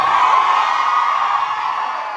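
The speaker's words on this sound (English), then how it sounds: "feel free to give a little shout, a little scream," A concert audience at a pop star's Q&A event shouts, whoops and screams together in a loud, sustained burst that slowly fades, with no talking over it.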